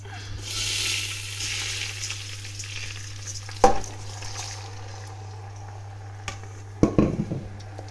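Rice fries in a pan with a low steady sizzle, broken by a few sharp scraping clatters as it is stirred, close by with faint background hum.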